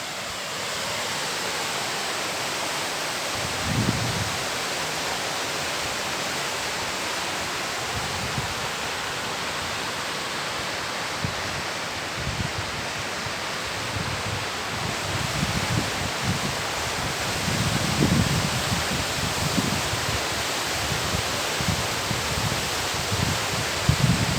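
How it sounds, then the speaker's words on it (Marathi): Sherpe-Napne waterfall near Vaibhavwadi, Sindhudurg, about seventy to eighty feet deep, roaring as a steady broadband wash with its surroundings, low thumps and rustle rising now and then, no talk. "आपण ऐकूया इथला ओरिजिनल म्हणजे नैसर्गिक आवाज धबधब्याचा आणि आजूबाजूच्या परिसराचा"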